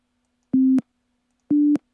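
Two short steady electronic beeps at one pitch from a Circuit Playground Express button piano, evenly spaced about a second apart, clean and isolated with silence between.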